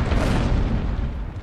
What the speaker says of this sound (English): we're gonna do another cannon shot here towards the main sails